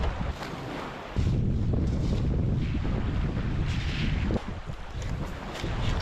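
Cold wind blows hard by icy water outdoors in winter, a loud continuous roar of buffeting gusts against the microphone with faint water movement beneath, no talk.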